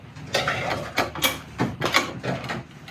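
Cover screws come out of a Brother PR680W embroidery machine under a Phillips screwdriver, giving a run of quiet, close ratcheting clicks and scrapes in irregular bursts.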